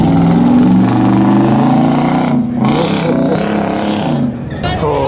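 A modified car's exhaust roars loudly past on a street in America, a dense rumbling engine sweep that dips briefly and swells again, with voices faintly mixed in.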